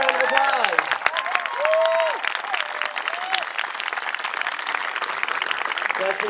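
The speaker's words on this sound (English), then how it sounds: "give her a round of applause" Crowd applause with scattered cheers and whoops for a skier being recognized in her hometown, voices calling out over the clapping early, then settling into steady clapping.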